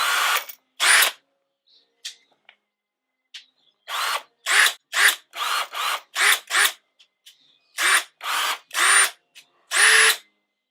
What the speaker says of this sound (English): 18-volt hand drill with the clip that you can hang on your tool belt